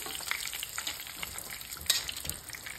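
Fish fillets sizzle steadily in a hot frying pan, a dense crackling spread with faint clicks as the pieces are turned with two tongs.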